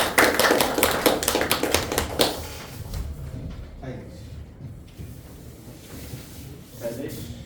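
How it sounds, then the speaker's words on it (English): Audience applause at a club meeting greets the grammarian walking on stage: a dense burst of many hands clapping at once, loud at first and then thinning out after a couple of seconds. Speech follows once the clapping dies away. "Please give him a huge round of applause."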